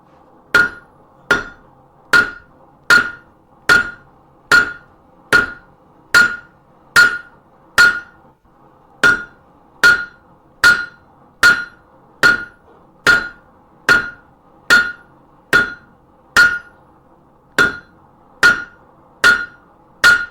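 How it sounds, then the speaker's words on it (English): A hammer strikes a stainless steel fork being shaped, sharp metallic blows landing one after another at an even, steady pace, close and loud with quiet gaps between strikes and no talking. "my hammer control is awful today"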